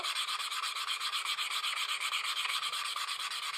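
Sandpaper rubbing back and forth across the cut edge of a leather piece during edge finishing, a steady close-up rasping scratch with quick repeated strokes, continuous and alone.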